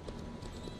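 Horse hooves clip-clop steadily in a western video game, a dense, even patter of hoofbeats heard up close with a faint murmur behind.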